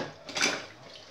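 A short burst of scrubbing as grease is cleaned off cooking pots and pans during dishwashing, a close, soft, watery swish that swells and fades within a second.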